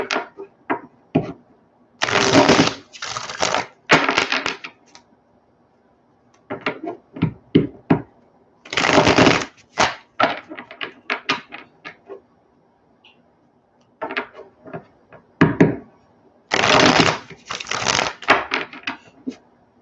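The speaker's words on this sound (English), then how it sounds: "I need to give it some good shuffles." Tarot cards being shuffled, coming as repeated crisp riffling bursts of a second or so each, separated by softer tapping and brief quiet gaps, close and clear with no voice.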